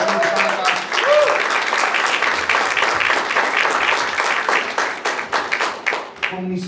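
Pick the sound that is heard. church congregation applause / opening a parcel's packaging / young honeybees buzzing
church congregation applause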